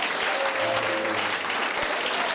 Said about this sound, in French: Applaudissez Jésus bien fort.